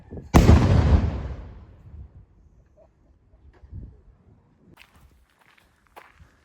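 A film-industry demolition explosion is set off outdoors as one loud, sharp blast that rumbles and fades over a couple of seconds, followed by scattered faint knocks and movement.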